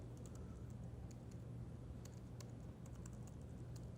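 Rapid clicking keystrokes on a computer keyboard, fairly close and steady for several seconds over a constant low hum, with no voices.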